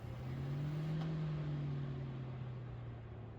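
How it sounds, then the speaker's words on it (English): A 2025 Toyota Camry starts remotely and settles into a smooth idle, heard as a faint steady engine hum that swells briefly as it catches, then holds evenly with no voices. "The lights will flash and your car will turn on."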